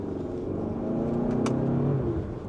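Turbocharged SUV with a dual-clutch transmission accelerating, its engine note rising steadily from inside the cabin, with a quick shift near the middle and a low road rumble underneath.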